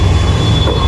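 A train, tagged as a Vande Bharat Express, runs on the Chennai to Goa route. A loud, steady low rumble of rolling stock fills the whole short moment, with no voices.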